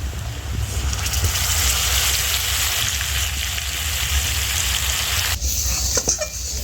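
Spice paste of turmeric, coriander, cumin and pepper mixed with water hits a hot wok for a country chicken curry, a loud continuous sizzle with stirring scrapes, briefly shifting near the end.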